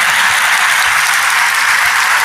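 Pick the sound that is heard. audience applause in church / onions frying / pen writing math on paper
audience applause in church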